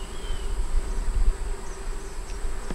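Honey bees hum steadily around an open double-deep five-frame hive with a super during an inspection, a continuous close buzz with individual bees passing near, no voices.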